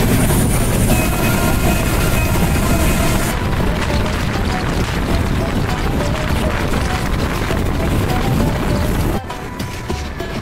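On a long, sweeping curve, the Chilahati Express runs with a loud, dense roar of wheels on rail, rattling and grinding close by from on board. Near the end, the level drops suddenly to a quieter rumble.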